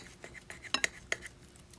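A few sharp knife taps and scrapes against a cutting board while slicing partly thawed frozen chicken breast, close and brief, with quiet kitchen clinks in between.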